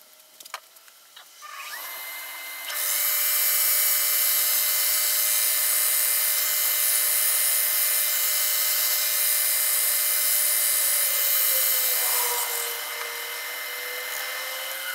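A black cherry wood bowl is sanded on a spinning lathe, the motor starting up then holding a loud, steady whine with a harsh abrasive rasp, easing slightly near the end.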